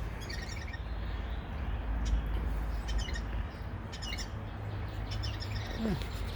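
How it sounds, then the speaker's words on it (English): A small bird chirps from inside a backyard bush, short bright tweets in scattered bursts over outdoor background noise, with a low rumble underneath. "There's a bird right there."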